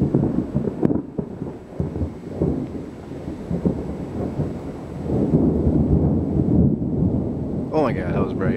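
Thunder from a lightning strike rolls in a long, deep rumble with sharp cracks near the start and swells later, loud and close, with a brief voice at the end.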